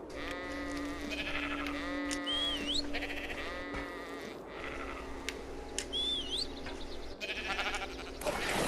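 Sheep bleat repeatedly in the ARK: Survival Evolved video game, several wavering calls spread over about eight seconds above a steady in-game hum.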